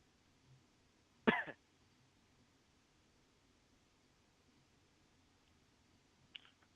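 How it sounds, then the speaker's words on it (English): A single short cough from a person, faint and somewhat distant, against a quiet hiss, with a softer throat sound a few seconds later. "Hear you coughing a bit there."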